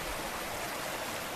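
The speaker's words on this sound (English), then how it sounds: "This is the beginnings of a creek that's labeled Devil's Ditch on the map." A small mountain creek called Devil's Ditch, just beginning in Shenandoah National Park, flows with a steady, even broadband rush of water, close and continuous with no voices.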